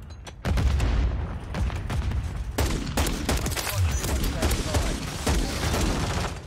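Desert Eagle pistol fire in a video game comes as a rapid series of sharp, loud shots with bursts and echoing booms. The shots continue through the whole stretch, and there are faint game sounds around them.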